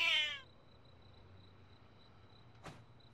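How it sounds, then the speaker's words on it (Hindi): A wild cat lets out one short, close meow at the start, followed by quiet room hum and a faint knock. "ये एक जंगली बिल्ली है"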